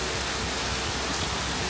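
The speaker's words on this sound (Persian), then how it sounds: "دیدین دیگه چی رقم باران بود" Rain falls as a steady, dense hiss, loud and close and unbroken throughout, with no voices.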